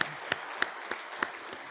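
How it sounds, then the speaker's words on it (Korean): Church congregation applause welcoming visitors during a Sunday service, heard as a few rhythmic hand claps at a steady beat, faint and somewhat distant in a reverberant room. "박수 다시 한번."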